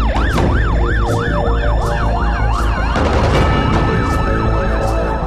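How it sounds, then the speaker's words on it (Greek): Four ambulances with wailing sirens pass one after another through the gate of Nikaia General State Hospital. The rising and falling siren sweeps overlap, loud and close, with traffic rumble underneath. "Τέσσερα ασθενοφόρα περνούν διαδοχικά την πύλη του Γενικού Κρατικού Νίκαιας"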